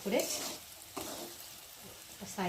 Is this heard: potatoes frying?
yes